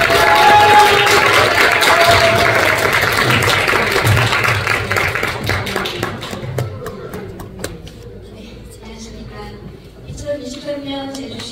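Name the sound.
audience applause welcoming a speaker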